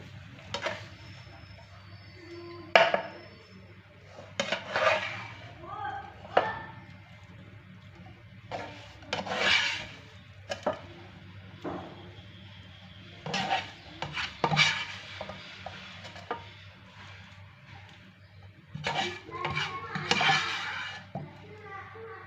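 Fried kebab and vegetables are scooped out of a pan, with repeated scraping and clinking bursts over a low steady hum, while a person talks intermittently.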